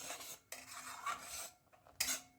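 Strawberry syrup for a homemade strawberry crush being turned with a spatula in a pan over medium heat, quiet scraping strokes separated by short pauses, with a brighter clatter near the end.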